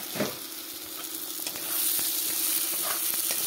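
Chopped tomatoes hitting hot oil in a pan, a steady bright sizzle that swells and stays loud, with occasional stirring scrapes, close up and without speech.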